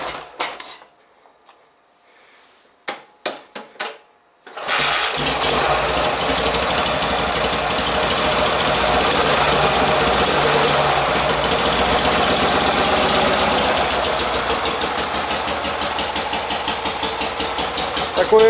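An M-62 engine is started and then runs roughly, as if firing on only one cylinder. A few sharp knocks come first, then a loud, continuous uneven engine rumble with a pulsing texture.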